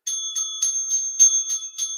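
A small bicycle-style bell rings in quick repeated dings, about eight bright strikes at an even rhythm, crisp and close with nothing else behind it.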